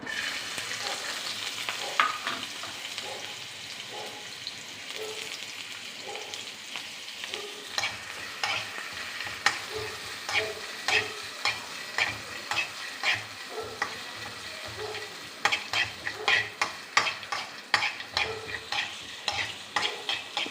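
Ingredients fry in a pan for a Kerala moru curry, a soft sizzle running under repeated stirring and scraping strokes that grow faster and more rhythmic toward the end, with no voices.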